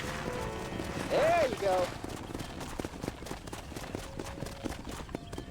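Hooves clip-clop at a walk in the Red Dead Redemption video game, with a horse whinny and someone speaking over the steady mid-distance hoofbeats.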